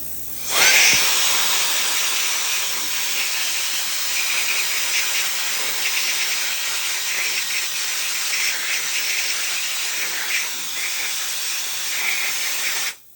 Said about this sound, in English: here I'm gonna blow some of this excess out with this